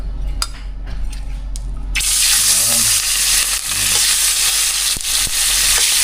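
Salinyasi fish dropped into hot oil in a frying pan bursts into a loud, steady sizzle after a quieter start, with a few sharp spattering pops and clinks over the continuous hiss.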